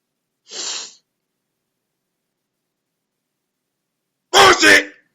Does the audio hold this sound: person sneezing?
yes